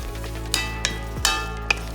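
Braised oxtail stew is stirred in a pan over medium-high heat, with a low steady sizzle and a few sharp utensil scrapes and clinks against the pan, close and without talk.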